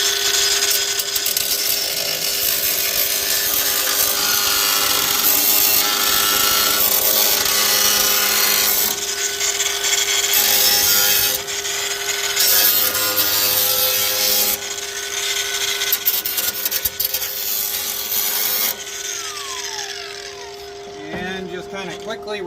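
An angle grinder roughs up sheet metal on a van cab side before welding, grinding continuously and loudly in long passes with brief pauses in between, close to the listener.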